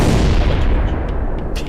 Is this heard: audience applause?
no